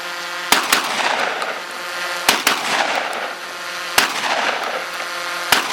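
A D-DOXCARMS DCX-26 air gun fires stones in quick succession: several sharp, loud cracks, two close together and the rest a second or two apart, over a steady mechanical hum.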